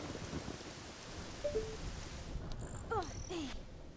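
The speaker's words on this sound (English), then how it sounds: "It's raining." Rain falls steadily in a thunderstorm in The Legend of Zelda: Ocarina of Time, with a low rumble beneath and a few brief tonal game chimes and blips partway through.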